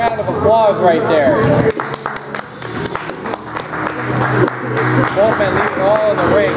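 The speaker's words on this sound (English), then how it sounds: "Give that man a round of applause right there." A crowd at a WMWA independent wrestling show applauds a wrestler after the match, the clapping and cheering running throughout beneath an announcer's loud voice talking over it.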